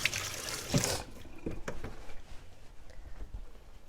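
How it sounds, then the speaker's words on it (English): A knife rinsed under a running kitchen tap after chopping spring onions: a burst of splashing water at the start, then quieter trickling and dribbling with faint clinks, close by and with no talking. "You might want to clean your knife from the spring onions."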